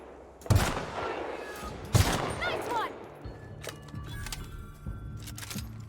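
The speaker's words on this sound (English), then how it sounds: "I think this is a perfect time to check out our sniping rifle." Two loud sniper rifle shots crack out about a second and a half apart in the video game The Outer Worlds, each followed by ringing echoes, then scattered fainter gunfire and game noise.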